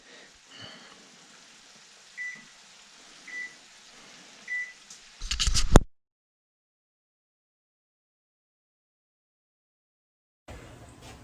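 An oven control panel beeps three times in an even, spaced sequence while being set to preheat for a keto sausage-and-peppers lasagna, followed by a brief clatter and then silence.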